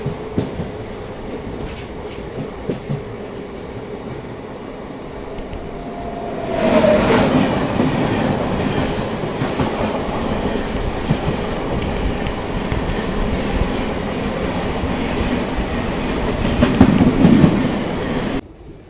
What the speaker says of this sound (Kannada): Karnataka Sampark Kranti express crossing.